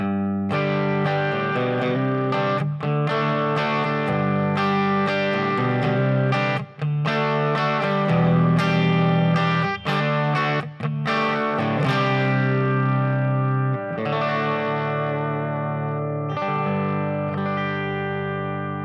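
Distorted electric guitar played through a driven Quilter 101 Mini Reverb amp with a limiter, thick chords and riffs ringing out continuously with brief gaps, loud and close.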